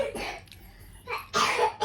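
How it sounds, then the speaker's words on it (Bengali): A child coughs in a couple of short, harsh bursts, close and fairly loud, with a quiet pause between them. "এখনো কাশিটা কমেনি কাশি আছে"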